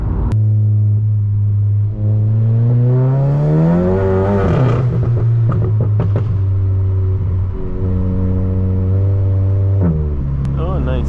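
Big-turbo VW MK7 GTI accelerating hard out of a turn, heard from inside the cabin: a loud, steady engine drone climbs in pitch, dips briefly at a shift near the midpoint, then pulls again and settles, with no talking over it.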